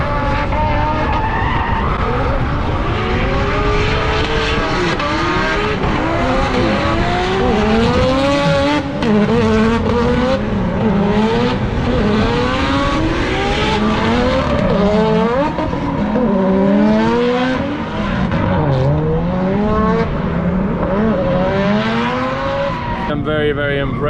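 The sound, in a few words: yellow Mazda RX-7 drift car engine at race track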